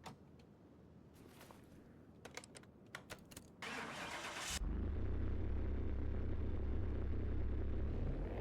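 A car engine starting in a video game garage: a few faint clicks and cranking bursts, then the engine catches and settles into a loud, steady low rumbling idle that continues to the end.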